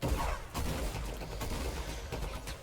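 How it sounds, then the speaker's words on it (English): A drum gun in a Fortnite solo match fires rapidly at close range, a dense, continuous stream of loud shots with no pauses and no talking. "Get this guy pretty low and kill him with the drum gun"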